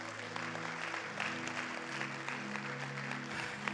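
A church congregation applauds steadily to honor the Lord, the clapping moderately distant and blended with sustained musical tones running underneath.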